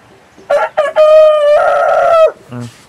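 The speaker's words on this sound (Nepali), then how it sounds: "कुखुराहरू बासिरहेछ" A rooster crows loudly and close by at sunrise, one long drawn-out call, with a brief cluck just after.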